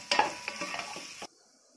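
Chopped onions being sautéed in a pan for restaurant-style Chinese fried rice give a brief, soft stirring scrape and light sizzle that lasts about a second before stopping.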